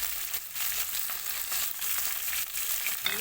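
Meat sizzling hard as it sears in a pan for kebab, a steady dense crackle and hiss with small spits throughout, close and fairly loud, no voices.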